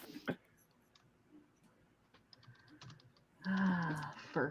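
Fast computer keyboard typing, quick scattered clicks and taps at low level during a holiday livestream, with a louder burst of voices joining near the end.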